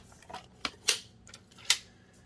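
A journal page is cut down to size with scissors, giving a few sharp snips and crisp paper slices over about two seconds, close and fairly quiet.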